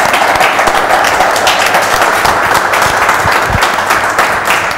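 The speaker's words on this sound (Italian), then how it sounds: "quindi facciamo un applauso a Seri." Audience applause at a singing show, a dense and steady wash of clapping that stays loud for the whole stretch with no talk over it.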